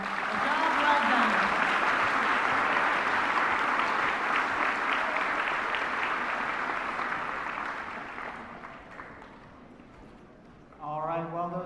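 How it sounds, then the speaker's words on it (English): An audience at LaCreole Middle School's 2014 eighth grade recognition ceremony gives the students a long, loud round of applause that slowly fades, and a voice starts speaking at the end. "let's give them a round of applause for a job well done."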